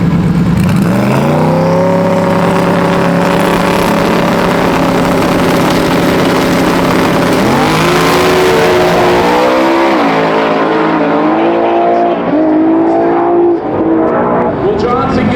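A 1300 whp drag race car launching down the strip: loud, close engine revving up and holding a strained high note, then shifting through gears with rising surges as it pulls away, with a voice talking over it.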